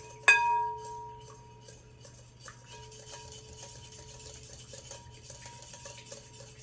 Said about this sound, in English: whisking from side to side gives me more control and creates an emulsion faster than going around and around